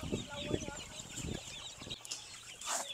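Rhode Island Red chickens cluck on a farm among growing birds, several short clucks and calls at close range over a steady background of farm noise, no talk.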